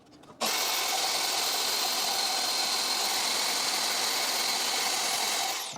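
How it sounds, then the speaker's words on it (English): A bandsaw cuts through a thick, heavily corroded cast iron part, setting up a steady, loud, unbroken grinding whir that holds from start to finish after a brief quiet lead-in. "let's see if the bandsaw's up to the duty of cutting this guy"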